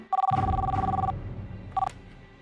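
An office telephone rings in two bursts of an electronic double-tone bell, loud and close, the first lasting about a second and the second much shorter, with a low background hum beneath.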